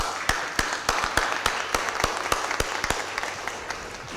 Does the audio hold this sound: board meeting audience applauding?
yes